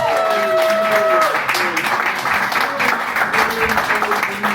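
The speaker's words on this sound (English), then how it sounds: "we're going to start off today by just giving all the contestants a round of applause" Studio audience applauding contestants at a televised Scottish heat of a queer song contest, steady clapping that fills the clip, with speech overlapping.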